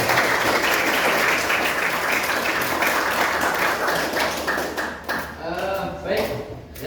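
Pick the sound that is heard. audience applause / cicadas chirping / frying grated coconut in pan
audience applause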